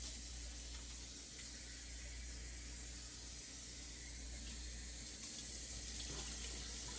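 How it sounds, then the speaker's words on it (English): Tap water runs steadily from a kitchen faucet into a sink while rice is being washed, a continuous close hiss and splash with no talking. "before you put your rice in this, I'm going to tell you to go ahead and wash that rice."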